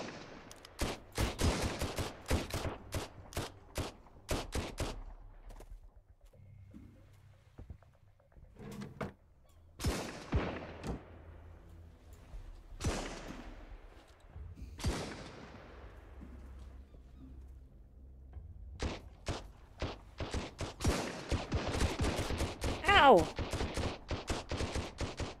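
Heavy gunfire from big guns during a raid in the survival game Sunkenland, bursts of rapid shots and single heavy blasts repeating over about 25 seconds with short gaps, loud and close.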